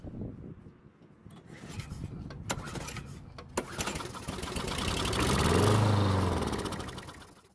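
An engine of unknown condition, with an unidentified fluid in place of motor oil, cranks and starts, then runs and swells to a loud, steady rumble before easing off, with no talk over it.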